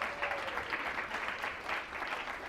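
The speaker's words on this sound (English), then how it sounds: "Round of applause." Audience at a sales seminar gives a round of applause, a dense, even patter of many hands clapping continuously, moderately distant and fairly quiet.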